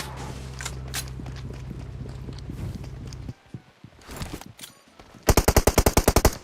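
Gunfire in the PUBG Mobile battle game: a rapid run of close automatic shots closes the clip, after a stretch of softer game noise and scattered movement sounds.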